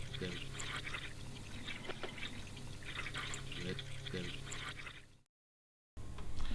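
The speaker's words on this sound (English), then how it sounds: "now we're going to fill it up with water" Water poured into a Drinkwell pet fountain bowl, a soft, close trickling and splashing pour in short bursts that cuts off abruptly to silence near the end before resuming briefly.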